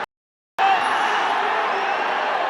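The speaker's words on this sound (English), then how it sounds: "the crowd over the far side rather annoyed with it" Gaelic football crowd at a Kerry v Cork Munster final, a broad roar of spectators sounding annoyed after a kick-out, starting abruptly after a brief silence and holding steady and loud.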